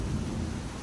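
Heavy rain pouring outside a balcony on a wet afternoon, a dense, steady roar of falling water with a deep low rumble, loud and unbroken throughout, with no voices.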